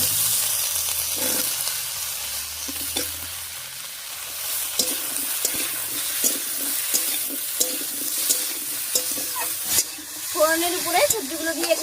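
Chopped potato, eggplant and ridge gourd go into hot oil over fried onion and spices, a steady frying hiss marked by light scraping and stirring, with a voice talking briefly near the end.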